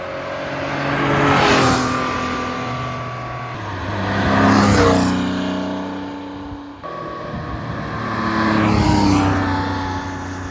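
A Porsche Boxster passes by at 40 to 60 mph, its exhaust popping and buzzing; three separate passes each swell up loud and fade away, with no talking.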